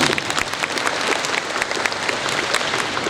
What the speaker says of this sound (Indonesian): beri tepuk tangan kepada ibu ini